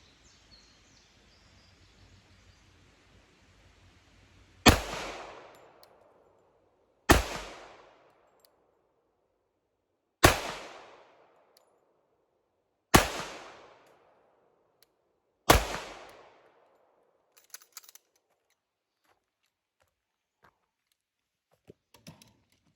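Five single-action pistol shots fired slowly at 10 yards, each a loud sharp crack with a short decaying echo, evenly spaced a few seconds apart, followed by faint clicks and handling noises.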